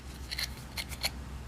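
Scissors cut paper for a handmade card in a few crisp, close snips spaced across a quiet moment, with no talking.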